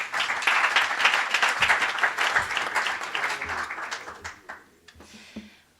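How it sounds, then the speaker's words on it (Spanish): An audience at a foundation event claps in sustained applause that gradually tapers off into a few scattered last claps, with no talking over it. "Un aplauso."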